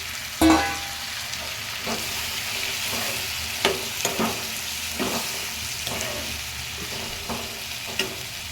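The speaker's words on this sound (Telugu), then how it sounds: "ఇప్పుడు టమాటాలు వేసుకుంటున్నాను సన్నగా కట్ చేసుకున్నానండి" Thinly cut tomatoes hit hot oil in a frying pan while an Andhra-style egg, drumstick and tomato curry cooks. A steady sizzle runs throughout, with occasional sharp clicks of stirring, and no one talks.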